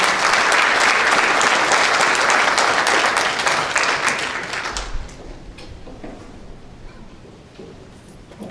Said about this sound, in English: can we get a round of applause for all these candidates?